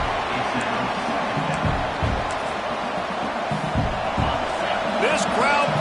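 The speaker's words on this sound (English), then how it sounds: "This crowd bringing the energy and noise early." A large college football stadium crowd roars as a continuous, loud wash of noise, with thuds and a few whistles cutting through near the end.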